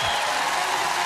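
A crowd at a gymnastics world championships applauds, a steady dense wash of clapping and cheering heard briefly and at even loudness.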